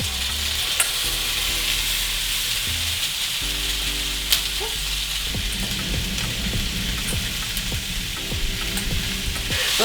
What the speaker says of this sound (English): So you want to have this saute for about 15 minutes